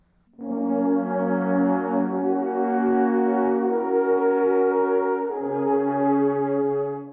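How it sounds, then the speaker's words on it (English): A deep, mellow wooden alphorn holds long, steady notes that shift pitch a few times, rich and resonant, played alone. "the Alp horn, made from several lengths of wood, which can be up to 25 feet long"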